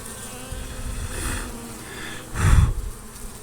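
Bees buzz at a hive during a swarm check. A steady hum rises and falls nearby, with a louder, close burst of buzzing near the end as the insects are stirred up.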